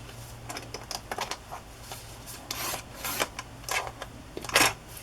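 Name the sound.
paper trimmer cutting paper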